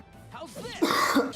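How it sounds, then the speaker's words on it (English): A single sharp cough bursts out near the mic, followed by a second rough cough, with faint background noise underneath. "I'm actually about to cough right now."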